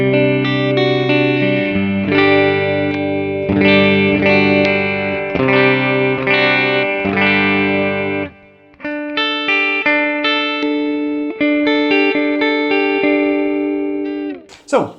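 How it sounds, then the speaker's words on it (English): Electric guitar through a Mooer Preamp Live on its US Classic Clean channel, playing clean, bright chords and arpeggios with ringing sustain, close and loud, with a few pauses between phrases. "So our first channel is the US Classic Clean."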